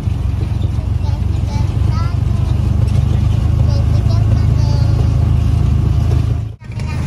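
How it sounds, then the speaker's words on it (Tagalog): A tricycle engine drones steadily and loudly from up close during a ride, with a rumbling low-end roar that carries on throughout and briefly drops out near the end. "Nasa tricycle tayo."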